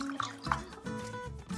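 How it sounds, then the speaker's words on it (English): Hot water poured over pasty miso in a bowl while making miso soup, a soft trickle with light drips and splashes, quiet and close. "I'm just going to add hot water"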